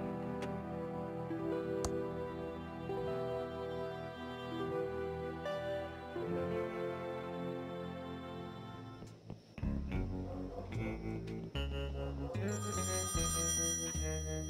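An out-of-order payphone with a glue-filled coin slot rings in the point-and-click game Thimbleweed Park, its steady electronic ringing tone mixed with continuous game music.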